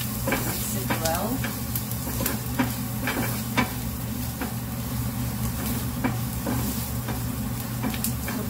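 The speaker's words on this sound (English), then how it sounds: "Fry this for 2 minutes." Methi (fenugreek leaves) and potato filling with cumin powder fries in a pan, giving a steady close sizzle broken by scraping stirs.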